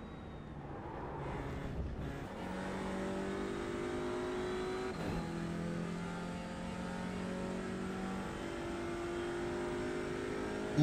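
A race car's engine in a racing video game drones steadily and loud, holding a sustained tone with shifts in pitch as it accelerates, nearly alone with no talking.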